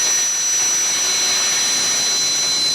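A rescue helicopter running steadily at a base camp during a glacier-burst rescue operation, a loud, continuous whine and hiss with no pauses or voices.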